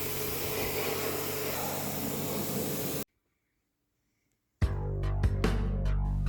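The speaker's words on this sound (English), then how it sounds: "So taking off as much of that polish as possible using the pressure washer outside to get this" A pressure washer blasts polish off metal outdoors on a Ford Fiesta ST Mk6 part, a loud steady hiss that cuts out abruptly to near silence, then returns with a deeper roar and sputters.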